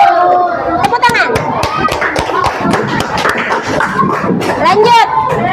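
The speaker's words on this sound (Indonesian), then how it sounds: "Tepuk tangan." Classroom applause during a primary school maths lesson, with children clapping in quick, uneven taps while young voices chatter and talk over it throughout.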